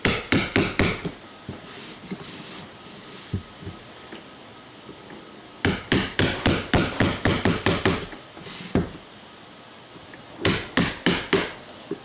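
Hammer taps a chisel into wood in three bursts of rapid, sharp strikes, each a quick series of close, loud knocks separated by quieter pauses.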